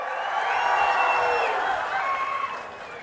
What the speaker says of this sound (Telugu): అవునంటే గట్టిగా చప్పట్లు కొట్టండి.